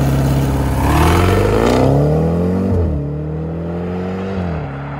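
Jaguar F-Pace SVR's 5-litre V8 revving hard, pitch climbing loudly through a couple of rising sweeps, dropping off, then swelling again, close and with no talking.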